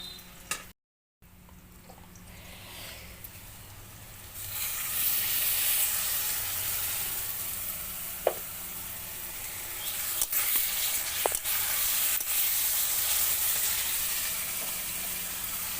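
Onions frying in a pan for a fish curry, a steady sizzling hiss that swells after a few seconds, with occasional sharp ticks and pops as they are stirred.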